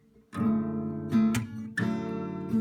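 A guitar chord strummed three times with partial strokes, each ringing on into the next, played alone with no voices.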